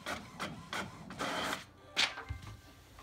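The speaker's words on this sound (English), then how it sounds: "Oh man, something just printed out of the printer." A printer feeds out a page with a series of whirring mechanical pulses and clicks, then a sharper rattle and a low thump near the end, heard up close with no talking.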